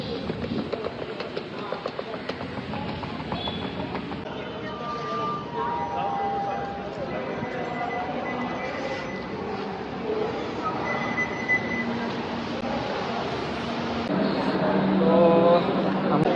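A train pulls into a station with a steady, heavy rumble of rolling cars and faint metallic squeals, under continuous nearby talk and crowd noise.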